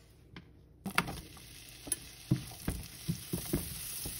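Butter frying in a pan for a Philly cheesesteak gives a quiet, steady sizzle broken by several soft clicks and scrapes of utensils against the pan, with no voices.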